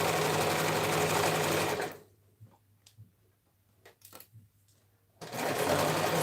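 A sewing machine stitches a dressform cover in two loud, steady whirring runs separated by a few seconds of quiet with soft clicks and fabric handling.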